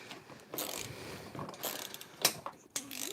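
A ratchet works on bolts while a Mercedes CLK500 bumper is removed, giving short, close bursts of clicking and metallic rattles separated by brief pauses.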